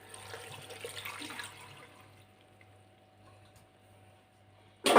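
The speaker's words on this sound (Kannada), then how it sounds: "ಇದು ಬೇಯಲಿಕ್ಕೆ ಬೇಕಾದಷ್ಟು ನೀರು ಹಾಕ್ಕೊಳ್ಳೋಣ." Water pours into a cooker for sambar, a soft splashing gush for the first couple of seconds that fades into quiet, followed by a sudden loud clatter at the end.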